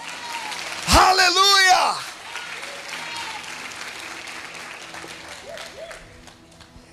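Church congregation applauding at a conference, a loud burst for about a second amid an exclamation, then fading into low crowd murmur with speech over it.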